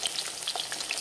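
Sausages browning in a frying pan, a steady bright crackling sizzle with scattered small pops, close and continuous.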